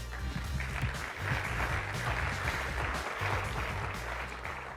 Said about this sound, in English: Give these judges a round of applause.